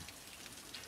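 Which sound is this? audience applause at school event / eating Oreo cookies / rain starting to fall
rain starting to fall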